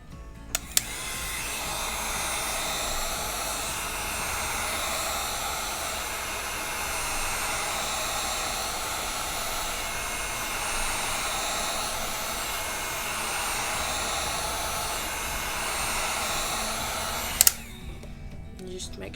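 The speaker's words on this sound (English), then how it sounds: "So I'm going to be using a heat gun, and you just turn it on high, and you're going to go around the edges." A heat gun set on high runs steadily for about seventeen seconds while warming the edges of an iPhone 11 screen, a loud, even blowing roar that cuts off abruptly near the end, followed by a couple of small clicks.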